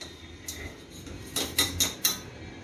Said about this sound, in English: Now I will put this rajma into the pressure cooker.